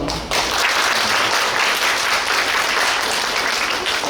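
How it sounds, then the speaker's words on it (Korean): Steady audience applause at a commemorative culture event for the 5.18 democratic uprising in Suncheon, dense and continuous clapping that stays loud throughout with no talking. "환영의 박수를 좀 부탁드리겠습니다."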